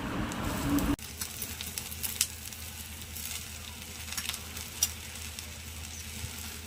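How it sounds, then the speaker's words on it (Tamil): Chopped aloe vera flowers sizzle and fry in a pan for a katralai poo poriyal stir-fry, a steady close crackle with scraping stirs and occasional pops after a sharp knock at the start. "கத்தாழை பூவை சேர்த்ததுக்கு பிறகு எல்லாத்தையும் நல்லா கிளறிக்கலாம்"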